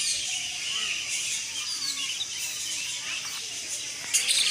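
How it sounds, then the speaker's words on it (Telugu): Small sparrow-like birds chirp in a zoo aviary, their high twittering calls steady and layered over a constant hiss of ambient noise, with a brief louder call near the end. "ఇవన్నీ పక్షులు చూడండి, చిన్నగా పిచ్చుకల టైప్లో ఉన్నాయి."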